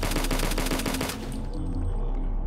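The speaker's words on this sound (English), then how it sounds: "Hey, stop shooting me." A turret in the video game HROT fires a rapid, loud burst of machine-gun shots in a steady rhythm for about a second, then stops and the echo fades.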